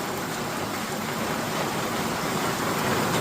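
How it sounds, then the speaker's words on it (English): Dense, steady hiss of heavy rain pouring continuously, broadband and unbroken throughout, with no voices. "You see how rainy it is?"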